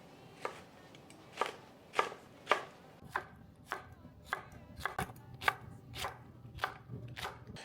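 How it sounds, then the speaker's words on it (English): A knife chops serrano chiles into uniform pieces on a cutting board, giving a steady run of sharp, close thuds about every half second, with no talking. "we're gonna take them and cut them into uniform sized pieces"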